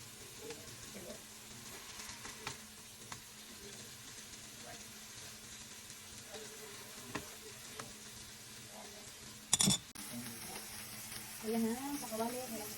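A burger patty fries in a pan with a quiet, steady sizzle, dotted by soft clicks and a sharp clatter near the end, with faint voices in the background.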